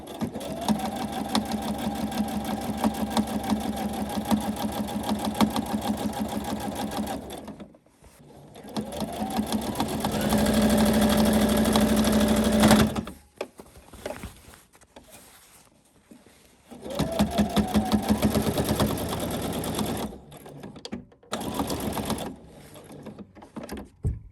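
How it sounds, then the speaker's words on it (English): A sewing machine runs close by, stitching a back tack on regalia in rapid whirring bursts of forward and reverse stitching, broken by brief pauses between runs. "Doing my back tack, forward a few stitches, back a few stitches."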